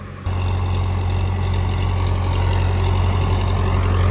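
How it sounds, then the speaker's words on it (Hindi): A farm tractor runs steadily past beneath a tree in a field, its loud, low engine drone starting suddenly and holding constant and close throughout. "कोई आ रहा है ट्रैक्टर, अब यहीं से आएगा, देखना।"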